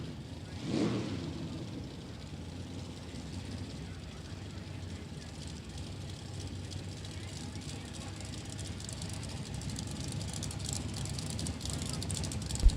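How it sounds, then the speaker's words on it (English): Drag racing cars, including an Anglia and a big Oldsmobile, do burnouts at Byron Dragway, giving a steady distant engine roar and tire rumble that swells slightly toward the end. "What a great couple of burnouts."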